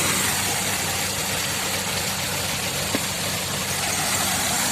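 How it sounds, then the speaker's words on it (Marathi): A tractor drives a wheat grading and polishing machine early in the morning, its engine holding a steady, loud droning rumble from start to end with no speech. "ट्रॅक्टर आलाय गहू पॉलिश करण्यासाठी"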